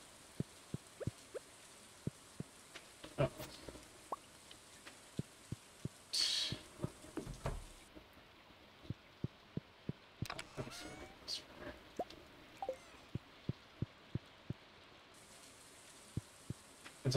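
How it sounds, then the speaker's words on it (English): Light rain patters quietly in a farming video game, faint scattered drops ticking at an irregular rhythm, with a few brief louder bursts along the way. "It's also raining today"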